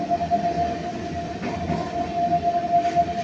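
A passenger train rolls into a station on the Ranaghat–Bardhaman line, with a steady low rumble of wheels and carriages and a thin, sustained high squeal running through it.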